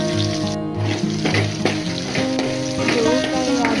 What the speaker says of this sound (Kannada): ಜೀರಿಗೆ ಮತ್ತು ಡ್ರೈ ಪ್ರಾನ್ಸ್ ಮತ್ತು ಕರಿ ಲೀವ್ಸನ್ನು ಸೇರಿಸಿ ಮಿಕ್ಸ್ ಮಾಡಿ ಒಂದು 5-10 ನಿಮಿಷ ಫ್ರೈ ಮಾಡಬೇಕು